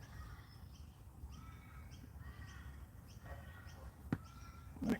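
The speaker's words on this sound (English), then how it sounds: "I can hear crows over there too." Several crows cawing in the distance outdoors, repeated hoarse calls in loose bursts over a faint background hum, with a couple of sharp close taps near the end and no talking.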